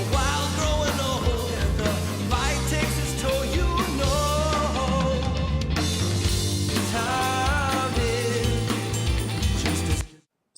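Playback of a mixed drum kit recorded in a home studio, with compression and limiting, runs loud and full as a continuous groove with other instruments, then cuts off abruptly near the end.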